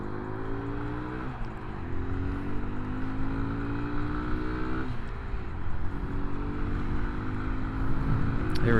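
Kawasaki Z125 motorcycle with a four-speed gearbox accelerating hard, engine note climbing then dropping at each of two or three upshifts, loud and close throughout with no pauses.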